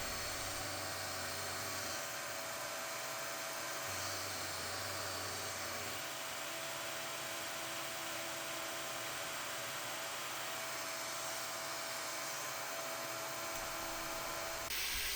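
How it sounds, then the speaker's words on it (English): A milling machine cutting a slot with a 1/4 inch end mill under an air blast gives off a steady, high-pitched whine and hiss that holds evenly for the whole stretch, with faint variations in the motor drone. "with the air blast on it, it'll blow the chips out of the groove nicely"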